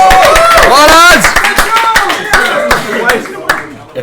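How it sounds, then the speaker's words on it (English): A crowd at a LAN gaming event claps in a brief, uneven burst of sharp hand claps that thins out over a few seconds, with a voice heard at the start. "Right, come on lads, give us all a clap."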